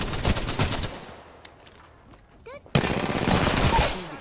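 Triple Take marksman rifle gunfire in Apex Legends, a burst of loud shots at the start, a quieter stretch with distant pops, then another dense volley of heavy firing near the end.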